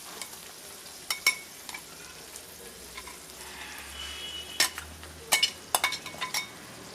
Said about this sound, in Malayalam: സവാള വഴറ്റി വെച്ച് സവാള ഇട്ടിട്ട് ഒന്ന് മിക്സ് ചെയ്യാം